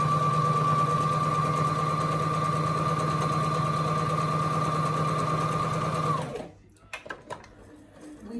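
A Brother LX17 sewing machine runs a decorative stitch with a steady, close, high-pitched whir for about six seconds, then winds down and stops, followed by a few small clicks and handling sounds.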